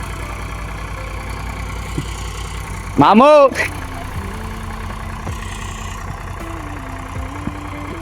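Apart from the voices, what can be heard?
tractor engine running in potato field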